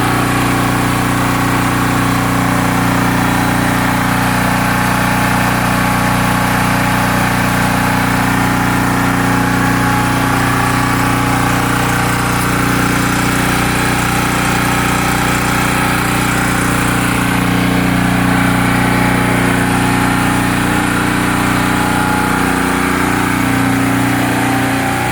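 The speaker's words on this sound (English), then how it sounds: "that's what the generator sounds like" Predator 4000 portable generator from Harbor Freight running under load with a pool pump and lights, a loud, close, steady engine drone and hum that stays constant throughout.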